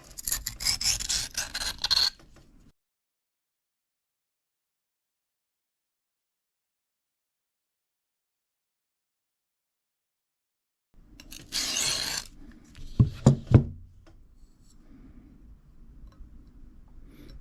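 A knife blade drawn across a cheap Kitanis diamond sharpening plate in alternating passes, heard as a burst of rasping strokes, then a long silence, then more rough scraping with a few sharp ticks.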